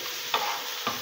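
Onion sautéing for rice, a brief burst of steady sizzling with two quick stirring knocks.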